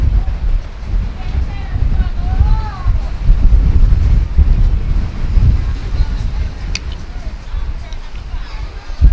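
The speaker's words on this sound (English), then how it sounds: "It's windy again." Strong wind gusting across a cruise ship deck at sea near Jamaica, a loud, buffeting roar battering the microphone in uneven surges throughout.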